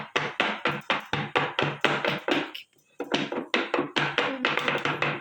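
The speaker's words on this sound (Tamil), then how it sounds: "மாவெல்லாம் அடியில் செட் ஆகிறதா கொஞ்சம் தட்டிக்கலாம்" A cake tin of sathu maavu batter is tapped down repeatedly on a surface, a run of sharp, evenly spaced knocks with a short pause midway, close and loud.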